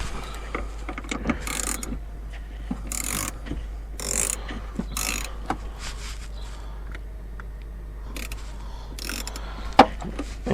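Ratchet clicking as it loosens the negative battery terminal on a Volvo V70/XC70/S80 P2, a series of short close metallic ratcheting bursts with quiet gaps between strokes.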